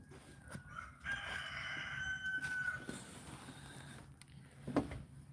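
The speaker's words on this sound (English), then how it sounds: "Y'all hear my rooster singing at this time of night" A rooster crows at night, heard as a drawn-out call early on and a shorter one near the end. Both are faint and distant over a quiet, low hum, with no talking.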